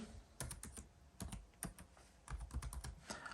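Someone types a name and then a password on a computer keyboard: bursts of quick, close key clicks in an uneven rhythm, with short pauses between the runs.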